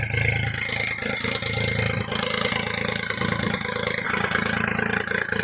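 A freshly overhauled Perodua Kancil turbo engine idles nearby with a steady, loud, slightly rough drone, holding a constant rumble throughout with minor fluctuations.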